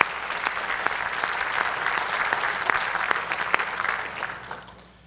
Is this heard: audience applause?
yes